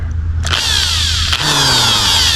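A power drill whines up to speed twice in quick succession, its high pitch bending as it bites into material while cutting drill screws in a van build, close and loud.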